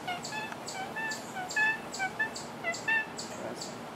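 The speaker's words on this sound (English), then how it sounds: "We think he's a rooster." A young pet rooster, hatched from an egg, gives a rapid series of short clucking, gobble-like calls, close and moderately quiet, with no talking.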